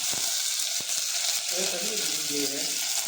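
Oil sizzles steadily with a bright crackling hiss, a few sharp pops early on, as fennel seeds fry in a pan for mutton curry; low murmuring voices faintly underneath.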